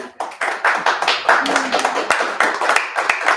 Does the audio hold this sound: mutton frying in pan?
no